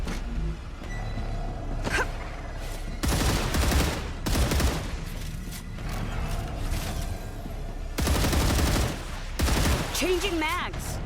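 Gunfire in the game Star Rupture, with dense rapid bursts of automatic fire coming in a few loud blocks separated by brief lulls, close and harsh, under occasional talking.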